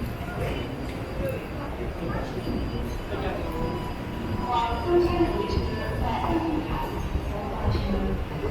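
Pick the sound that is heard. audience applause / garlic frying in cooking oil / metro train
metro train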